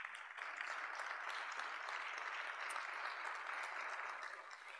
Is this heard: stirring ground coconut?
no